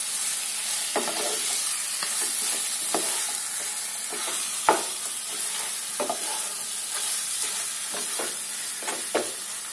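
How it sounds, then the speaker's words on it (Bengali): Fish heads stirred into softened tomatoes in a hot pan, a steady broad sizzle with repeated scraping stir strokes throughout, fairly close and even, no talking. "আমি এর মধ্যে মাছের মাথাগুলো দিয়ে দেবো। ভালো করে মিশিয়ে নেব একটু।"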